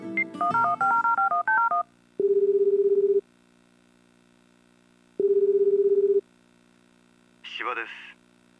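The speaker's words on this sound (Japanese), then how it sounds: "芝君に電話しよう。" Telephone keypad tones play in the dating sim Tokimeki Memorial Girl's Side 2nd Kiss. A quick run of dial beeps is followed by two long ringback tones separated by silence, then a brief chime at the end.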